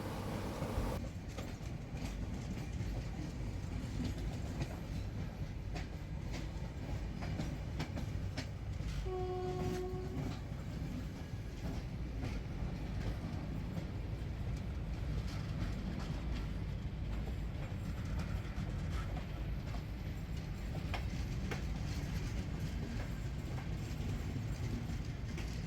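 A train rumbles steadily across the Vivekananda Bridge over the Ganges on the Banaras–Sealdah special, with continuous rolling wheel noise throughout and a brief horn-like tone midway, no talk.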